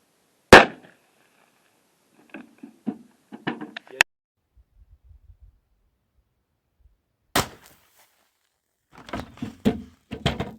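A Taurus Judge revolver fires .45 Long Colt at 10 yards: two sharp, loud gunshots several seconds apart, with someone talking between them and afterward.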